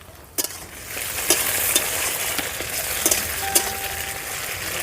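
Chopped tomato and onion fry with a steady crackling sizzle on a clay stove, while a spatula scrapes and taps the pan in several sharp, close strokes.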